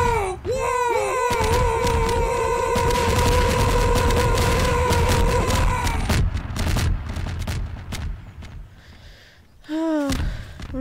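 Gunfire from a gun in Garry's Mod, a loud sustained burst of rapid automatic shots with whining tones, followed by a few scattered shots and a brief renewed burst near the end.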